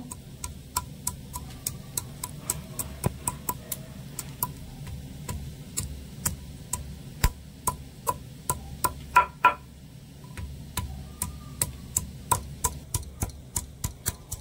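Ginger, garlic and green chilli crushed on a stone grinding slab, a steady run of sharp, regular knocks close by, each strike crisp and evenly spaced, with no talking.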